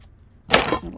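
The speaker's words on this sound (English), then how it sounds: "I'm just going to cut that on a diagonal." Scissors snip diagonally across a paper Christmas gift tag at a crafting table, a single short crisp cut that is close and fairly loud after a moment of quiet.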